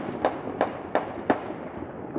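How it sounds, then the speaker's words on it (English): Fireworks burst over River Street in Savannah's historic district on New Year's, four sharp distant bangs spaced at a steady rhythm with quiet gaps between. "You're looking right now at the fireworks that are going off on River Street in the historic district of Savanna."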